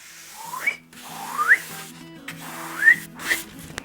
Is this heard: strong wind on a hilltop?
no